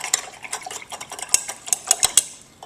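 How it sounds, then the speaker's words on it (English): A spoon clinks and scrapes quickly inside a container while salt is stirred into water for an egg density lab, with light irregular taps that grow sharper toward the end, close by and with no speech. "We're going to stir that until all the salt has dissolved to make a solution."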